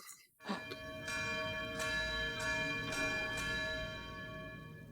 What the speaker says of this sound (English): The bells keep going there